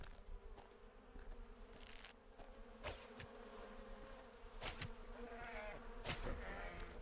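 Insects drone around the listener outdoors in a desert, a faint, wavering buzz that rises and falls as they fly near and away, with a few sharp rustles.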